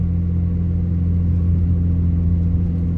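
A Mitsubishi Mirage converted to Evo IV coupe with a built 2.0L engine pulls steadily on a street, its low engine drone and rumble continuous and close, with no talking.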